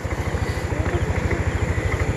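A borrowed motorcycle being ridden, its engine giving a steady, close, pulsing low drone with a regular throb throughout, with no talk over it.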